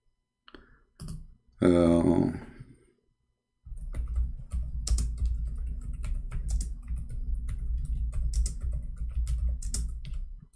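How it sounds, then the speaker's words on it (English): Someone types on a computer keyboard in a rapid, steady flurry of close clicks over several seconds, following a brief stretch of talking and silence at the start. "I'm typing Arabic."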